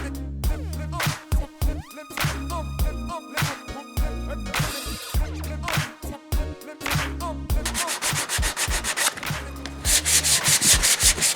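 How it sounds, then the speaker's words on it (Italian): Rhythmic scratchy rasping of 120-grit sandpaper rubbed by hand back and forth over wood, strokes close and uneven in pace, growing brisker and harsher toward the end. "con la carta abrasiva dalla grana numero 120, eccola qua, vado a carteggiare"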